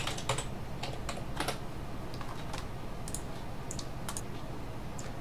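Quick bursts of computer keyboard typing as a command is entered on a Linux desktop running the Qtile tiling window manager, with close, crisp key clicks in uneven runs, heard alone.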